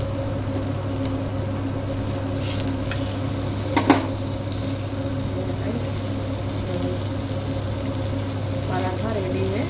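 An aloo paratha fries in a pan with a steady low sizzle, and a brief clatter of the pan or utensil comes partway through.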